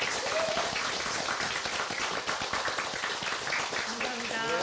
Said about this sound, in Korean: 힘찬 격려 박수 부탁드립니다